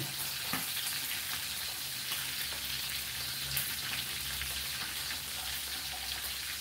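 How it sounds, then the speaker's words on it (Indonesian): Catfish frying in a pan of hot oil while sautéed water spinach and tempeh are cooked, giving a steady, dense sizzle that runs unbroken and fairly close throughout, with a faint clink near the start. "goreng ikan lele"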